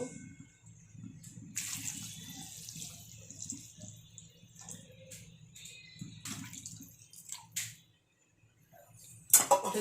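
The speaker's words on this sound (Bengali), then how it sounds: "জল বেশি করে দিলাম, বড়াতে তো জল টেনে নেয়।" Water poured into a pan of cooked spices for a lentil fritter curry, a soft running splash with faint clinks of utensils, stopping briefly before a sharp metallic clatter at the end.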